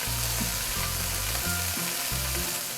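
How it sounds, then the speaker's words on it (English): Steak bites searing in a hot pan with garlic butter, a loud continuous sizzle and crackle close up, with occasional low thuds as pieces shift, and no voices. "After a couple minutes, then you can just flip them over, and look at that beautiful caramelization on that steak."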